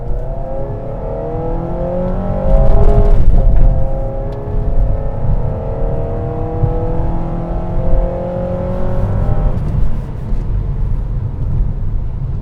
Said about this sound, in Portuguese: Bora dar uma aceleradinha aqui para vocês verem.